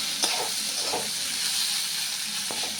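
Ingredients frying in a pan, heard as a continuous hissing sizzle with a few soft knocks from a utensil, steady and fairly close, with no talk.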